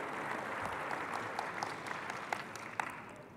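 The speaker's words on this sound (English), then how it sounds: "Let's give her a warm round of applause" Applause from a conference audience at an agriculture plenary in Rwanda, a soft, steady clatter of many hands with a few sharper individual claps standing out, fading gently.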